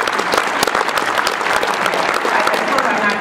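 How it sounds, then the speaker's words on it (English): Dense, steady applause from a large conference audience fills a keynote hall at IBM PartnerWorld 2015, with many overlapping claps held at an even level throughout. "Just clap, how's that?"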